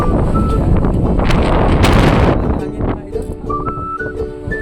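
Strong wind on the exposed tip of Pinagbanderahan in Atimonan, Quezon, buffets the microphone with a loud, gusty roar that eases after a couple of seconds, leaving quieter rumbling and faint tones.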